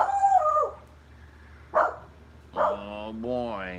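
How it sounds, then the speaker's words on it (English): A dog gives a few separate barks and yips at close range, with a brief howl-like whine early on, in a quiet room. "Dinord, please don't bark."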